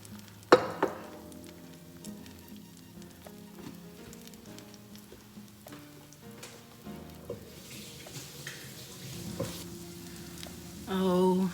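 Crabby corn cakes fry in grapeseed oil in a pan, giving a steady close sizzle with crackles and occasional clanks and scrapes of a utensil. Faint voices can be heard in the background.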